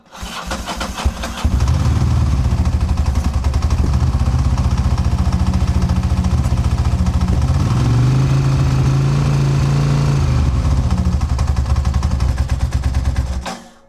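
A motorcycle engine, just back from electrical repair work, starts and then runs at a loud, steady idle with a rough, pulsing rumble, briefly rising in pitch near the middle before the sound cuts off at the end.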